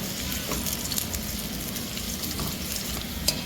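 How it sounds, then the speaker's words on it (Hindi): Onions fry in a pan toward a light golden shade for a soya and potato dish with dill leaves, giving a steady close sizzle and soft crackle with no voices. "इतना फ्राई करना है कि लाइट सा गोल्डन शेड आए"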